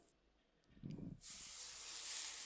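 Long beans go into hot oil with turmeric and chili powder and start to sizzle, a soft steady hiss that swells up after a brief stir and keeps going, fairly quiet.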